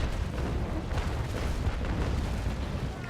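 Broadside cannon fire from a sailing warship armed with 6-pounder long cannons in the video game Naval Action Legends: a continuous heavy rumbling roar of booming shots that blur together, steady and loud throughout with no talking.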